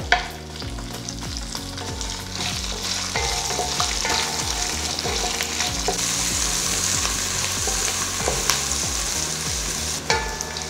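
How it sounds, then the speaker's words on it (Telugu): Long-sliced large onions frying in a pan with garam masala for a black Kadaknath chicken pulao, a steady loud sizzle running the whole time with stirring scrapes and a clatter near the start and end. "2 ఉల్లిపాయలని పొడవుగా కట్ చేసుకొని వేసుకోవాలి"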